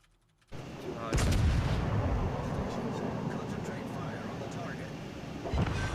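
Naval guns in a video game pound an enemy cruiser, a loud sustained roar of heavy gunfire and blasts that starts abruptly and rumbles on for several seconds, with a few louder cracks on top.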